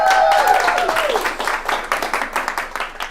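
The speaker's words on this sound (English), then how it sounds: "Can we give a round of applause to my beautiful girlfriend," Audience applause and clapping in a talk or seminar setting, with an early voice and tonal whoop fading into a steady patter of hands that thins toward the end.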